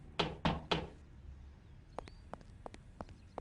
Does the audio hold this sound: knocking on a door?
yes